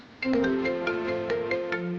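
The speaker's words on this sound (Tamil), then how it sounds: "அம்மா ஃபோன் பண்றாங்க." A mobile phone rings with an incoming call, a bright repeating electronic melody of short tones, loud and close with no voices.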